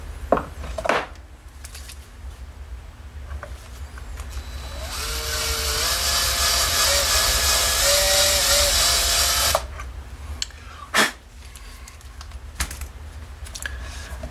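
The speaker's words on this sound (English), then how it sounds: "I can drill the other hole out." A power drill with a self-centering bit bores a pickup ring mounting hole on a Chinese copy of a Rickenbacker 4003 bass guitar, a steady, loud whine lasting about five seconds, framed by clicks and handling knocks.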